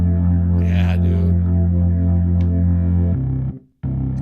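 Heavily distorted bass tone holding a thick sustained note, then shifting pitch and cutting out briefly before returning, loud and alone.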